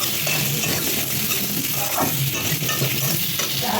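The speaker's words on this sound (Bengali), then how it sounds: "যাতে লাল লাল করে আলুটা ভাজা হতে থাকে।" Potato pieces frying with salt in a hot pan, a dense close sizzle broken by stirring scrapes and light clinks of a utensil against the pan.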